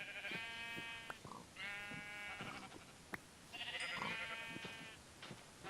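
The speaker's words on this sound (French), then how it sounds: "Si, il y a des moutons." Several sheep in a video game bleat in repeated, wavering calls with short pauses between them, close and fairly loud, alongside brief clicks and game-like effects.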